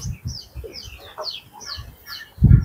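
Chickens cluck nearby in short, uneven bursts, with higher chirping calls scattered between them and a louder thump near the end.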